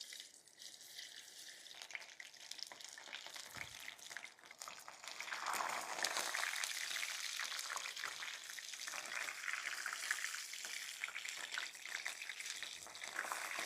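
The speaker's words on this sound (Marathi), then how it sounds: "आपण आता या सोयाबीन डीप फ्राय करून घेऊ" Soybean chunks coated in batter deep frying in hot oil in a wok, a steady dense sizzle and crackle that swells louder partway through and keeps bubbling close up without pause.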